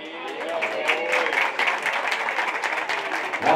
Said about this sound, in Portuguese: corajosa, foi aplaudida.